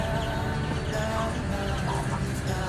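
Chickens and young chicks cluck and peep together at close range in a busy, continuous jumble of calls over steady farmyard background noise.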